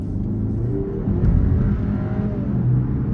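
A 2024 BMW 530i xDrive speeding up as it merges onto a highway. A steady engine rumble builds over road and tyre noise inside the cabin, with no voices.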